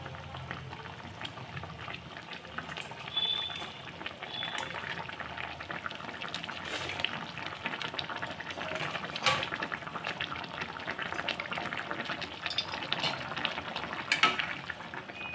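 Koi fish curry boiling in a pan, with a steady bubbling simmer and faint popping heard close and fairly soft throughout, with no talk.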